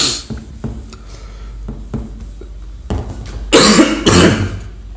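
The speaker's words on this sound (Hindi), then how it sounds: "थोड़ी खांसी आ गई है।" A man's cough during a maths lesson: a few short throat-clearing coughs and breaths, then two louder harsh bursts close to the microphone, with no speech around them.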